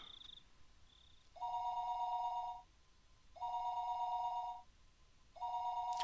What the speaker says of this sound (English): The phone suddenly rang.